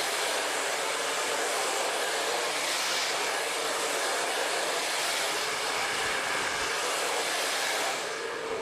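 A blow dryer works on curly hair with a brush in a steady, loud, continuous airy roar that runs the whole time without pause.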